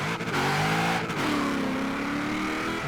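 Engine roar of a car in Forza Horizon 4, revving up with rising and falling harmonic tones across two surges, loud and close with no talk over it.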